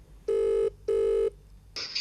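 A telephone rings twice in clear, evenly spaced buzzing tones close by, followed by a brighter electronic sound as the second ring ends.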